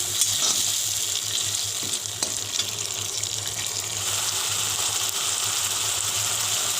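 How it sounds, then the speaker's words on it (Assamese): Food frying in a pan over a high flame, a loud, continuous hissing sizzle that holds steady close up with no voices. "এখিনি মই প্ৰায় 1 মিনিট মান ফ্ৰাই কৰিম ফ্লেমটো হাই ফ্লেম ৰাখিব"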